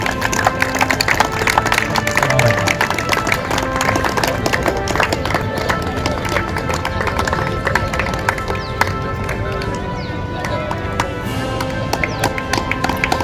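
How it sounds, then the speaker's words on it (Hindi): A large outdoor crowd claps loudly and steadily at the inauguration of a cricket academy ground, with dense overlapping claps, scattered taps and some voices mixed in. "जोरदार तालियां समीर सर के लिए।"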